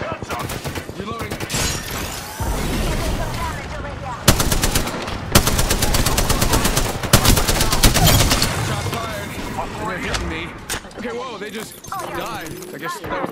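Rapid automatic weapon fire in Apex Legends, dense bursts of shots with sharp impacts and crashes, loud and close over game effects, with a voice speaking intermittently.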